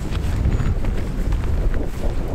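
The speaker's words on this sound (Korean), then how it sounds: "바람 세긴 하다" Strong, cold wind in snowy winter mountains on a forest road, roaring steadily and loudly with low buffeting gusts right at the microphone.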